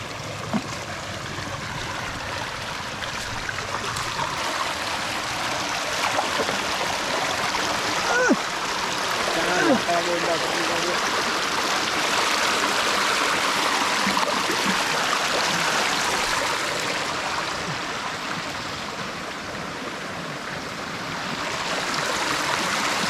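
Clear natural stream flowing outdoors near a countryside home on an island, a continuous close rushing babble with no speech over it.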